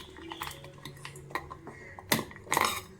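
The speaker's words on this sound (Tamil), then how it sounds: "நல்லா ஆறிச்சு இப்போ ஜாரில் சேர்த்துக்கலாம்" Cooled ingredients for a raw mango dish are spooned into a mixer jar, with soft scraping, light metallic clinks and two sharper knocks of a spoon against the jar, close and quiet.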